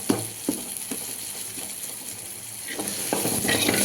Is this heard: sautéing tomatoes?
yes